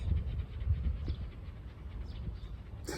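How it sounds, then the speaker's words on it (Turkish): A dog pants steadily at close range, quick rhythmic breaths with low rumbling background noise. "Cici köpek."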